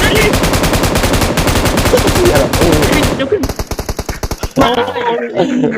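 Gunfire in the video game PUBG: loud, sustained automatic bursts give way to a fast string of distinct sharp shots, then a pause and more firing, with players talking over the action.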